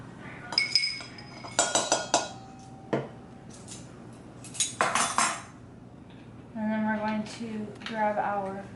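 A whisk clinks and taps against a bowl while cupcake batter ingredients with vanilla are mixed for jumbo chocolate peanut butter cupcakes, giving a few bursts of metallic clatter with pauses and a voice speaking near the end.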